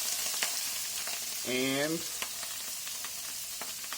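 Mushrooms frying in hot oil in a pan for risotto, a steady soft sizzle with scattered crackles and pops; a single short spoken word cuts in briefly midway.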